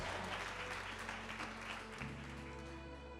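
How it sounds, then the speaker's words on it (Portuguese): Church congregation applauding during a sermon, a faint, diffuse patter of many hands clapping with a low sustained organ or keyboard chord underneath that shifts midway. "aplaude Jesus por isso, cara."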